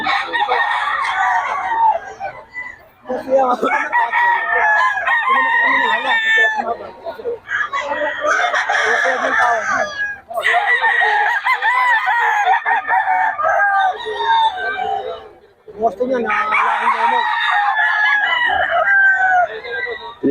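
Roosters crowing repeatedly among clucking chickens at Bocaue, loud and close, in several long overlapping bursts with brief pauses, while people talk in the background.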